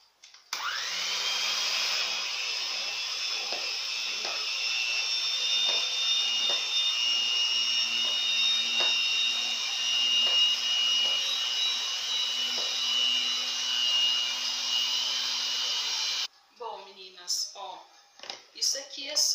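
An electric mixer beats strawberry cake batter, whirring steadily and loudly for about sixteen seconds before cutting off, with a voice speaking afterward.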